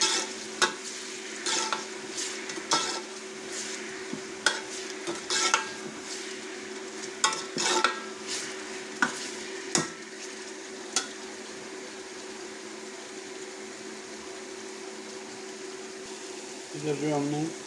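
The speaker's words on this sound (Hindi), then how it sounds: "ताकि प्याज जल्दी फ्राई हो जाए।" Onions frying with salt in a pan on a village kitchen stove for an aloo saag sabzi, a steady sizzle broken by repeated scraping stirs, with a constant hum underneath.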